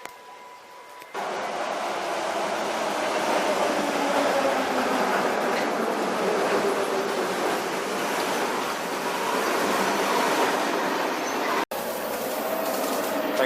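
A train arrives at a station in Sri Lanka: a loud, steady rumble and rolling clatter swells in and holds for about ten seconds, breaks off briefly, then carries on.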